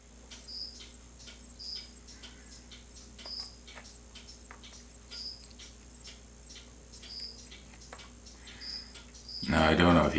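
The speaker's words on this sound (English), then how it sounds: "Now I don't know if you can hear it or not, but I still got crickets." Crickets chirp outdoors in short, evenly spaced pulses against a quiet night background, steady and moderately near, until a sudden loud rustling burst near the end.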